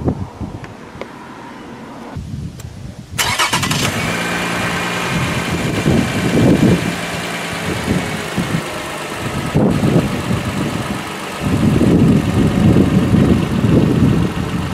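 A car engine cranks and fires up during a battery cranking test with a handheld tester, starter churning for about a second before the engine catches and settles into a steady, loud idle close by.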